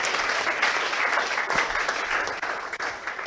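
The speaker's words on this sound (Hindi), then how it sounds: "सभी विद्यार्थी एक बार तालियां बजाएंगे" Students give a welcome for a newly selected Air Force recruit with a dense, continuous burst of applause from a crowd of many hands, loud and even throughout, with no talking.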